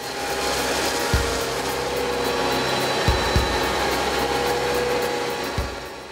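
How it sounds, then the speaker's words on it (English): A self-propelled Lemken Brillant 9/11 cultivator drill working across a field, giving a steady broad mechanical roar with a few sharp knocks and clunks scattered through it. "a self-propelled cultivator drill. Now it's materialized in steel, working its way across the field"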